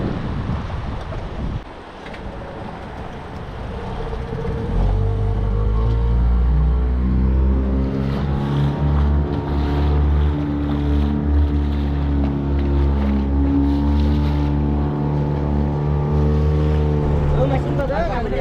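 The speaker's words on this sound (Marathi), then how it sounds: "चला आता इंजिन स्टार्ट करतो आणि आयलंडवरती जाऊ." A motorboat engine starts after a brief sputter and settles into a loud, steady droning hum with a low rumble and rising harmonic tones, heard near over sea wind as the boat heads out to an island off Mumbai.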